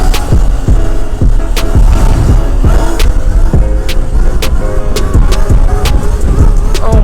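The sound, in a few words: Torp TM40Pro-powered Sur-Ron electric dirt bike doing power wheelies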